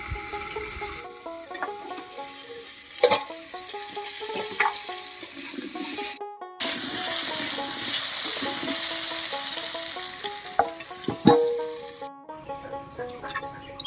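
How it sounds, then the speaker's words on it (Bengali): Sliced squash fries in oil in a covered pan, a steady broad sizzle throughout, with occasional clanks of the lid and utensil as it is uncovered and stirred, and two brief near-silent gaps. "কোয়াশটা ভাজা হয়ে গেছে, এবার নামিয়ে নিচ্ছি।"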